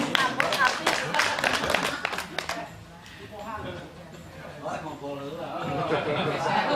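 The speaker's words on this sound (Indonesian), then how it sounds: "Tepuk tangan dulu untuk Bapak Kosim" Applause for Bapak Kosim at a school reunion gathering, a short burst of clapping at the start that quickly fades into chatter and someone talking.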